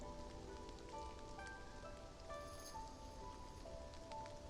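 Steady rain falls in the video game Love and Deepspace, a soft, even patter on surfaces with faint tonal game sounds drifting over it and no voices.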